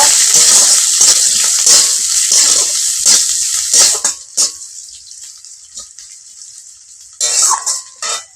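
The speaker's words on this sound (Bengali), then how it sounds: "এবার দেব কুচে রাখা পেঁয়াজ নেড়ে চেড়ে নেবো" Chopped onion hits a hot pan with garlic for Bengali ol bhorta, giving a loud sizzle with scraping stirs that soon thins into intermittent bursts of crackle between quieter pauses.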